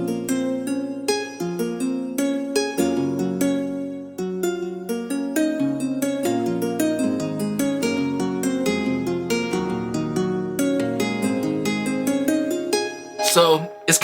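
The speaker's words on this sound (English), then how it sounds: "it's actually a nylon guitar and a ukulele mix" A Pro Tools Expand 2 preset called Ancient Guitar Lely, blending nylon-string guitar and ukulele, plucks a melodic sequence of bright notes alone at moderate volume, ending in a short flurry.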